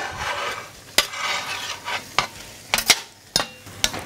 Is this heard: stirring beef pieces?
yes